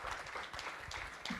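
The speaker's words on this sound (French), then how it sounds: "Et on peut les applaudir parce qu'elles viennent de s'installer." A small audience at a business event in Courbevoie claps for newly established entrepreneurs, a brief burst of scattered, moderately close clapping.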